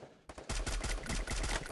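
Rapid automatic gunfire from the Free Fire battle royale game, with sustained loud bursts of shots under a steady battle din after a brief quiet start.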